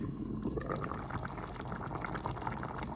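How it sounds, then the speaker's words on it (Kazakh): Sauce for meatballs bubbling and simmering steadily in a pot over high heat, a continuous dense gurgle with small pops throughout, close up and fairly quiet, no voices. "Енді менде үлкен отта қайнайын деп тұр."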